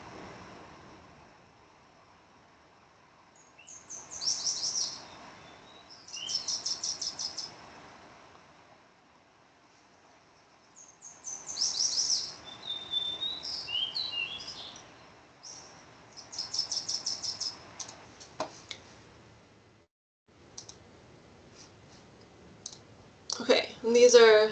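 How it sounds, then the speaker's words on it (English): Wilson's warbler and fox sparrow songs recorded in a disturbed landscape, short bright chattering phrases repeated every few seconds with quiet gaps between, faint and thin against a hushed background, with a louder burst at the end. "This is a Wilson's warbler. It kind of sounds like a bouncing ball."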